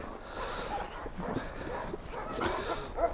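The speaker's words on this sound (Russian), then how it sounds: "аборигенная якутская гончая лайка" An aboriginal Yakut hound laika at a hunting-laika kennel whimpers and yips in short uneven whines over a few seconds, close by against outdoor background noise.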